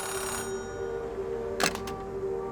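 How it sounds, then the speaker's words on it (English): A payphone rings in the Oxenfree II video game, a steady tonal bell ring with a brief sharp clatter partway through, moderately loud over a low ambient hum. "A payphone ringing in the wild?"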